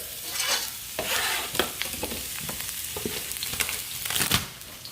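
Onions fry in a mix of olive and vegetable oil in a pan, a close, bright sizzle with frequent stirring scrapes and clatters in an irregular rhythm, and no speech.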